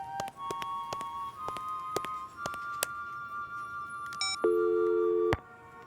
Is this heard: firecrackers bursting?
no